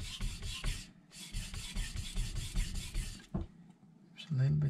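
A carbon steel knife slides across a Miyagoshi whetstone in a run of rhythmic, rasping strokes, close and clear, then pauses before a final scrape and a brief low tone.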